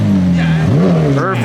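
A McLaren 765LT sports car engine hums low and steady nearby, pitch dipping and rising briefly as it rolls up in the sunlight, with a voice speaking over it throughout.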